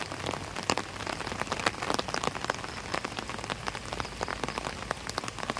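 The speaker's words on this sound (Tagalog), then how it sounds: "Hanggang ngayon na ulan pa din." Heavy rain pours steadily onto surfaces during a flood in Lopez, a dense, continuous patter of drops that is fairly faint and unbroken, with no voices.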